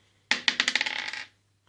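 Dice tumble onto a table during a family board game, a quick burst of clattering bounces that rattles for about a second, close and fairly quiet, then a faint final click.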